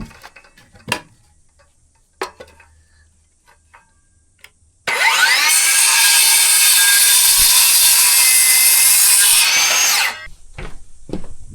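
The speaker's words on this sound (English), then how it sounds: "But I just gotta cut like a 1/4 inch off of this one." A power saw cuts about a quarter inch off the end of a scrap wood piece during roof construction, a loud, steady high whine lasting about five seconds, preceded by scattered knocks and handling clatter.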